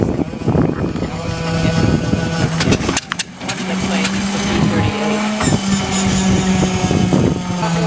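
The Allison V-12 aircraft engine of a P-51A cranks and fires, loud and close, with an uneven startup, a steady whine and sharp bangs midway, as a voice talks over it.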